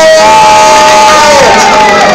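A crowd at a motorcycle and rally show cheers and shouts loudly and close, with a steady tone running underneath.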